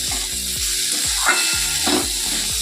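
Chilli paste seasoned with salt and turmeric sizzles steadily in a pan, a continuous close frying hiss broken by repeated short scraping stirs, with no voices present.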